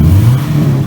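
A loud, close Subaru car engine with an aftermarket header hums with a low, rough drone, rising slightly in pitch over a brief moment.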